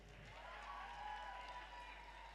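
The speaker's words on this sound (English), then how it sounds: "Makofi ingine kwa Drunken Lectures." Brief applause from the audience at a Drunken Lectures event in Nairobi, a short burst of clapping that sits faintly under a voice speaking over it.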